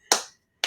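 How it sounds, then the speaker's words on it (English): Two sharp hand claps, spaced about half a second apart, close and crisp with quick decay, and no voices. "Applause, everybody."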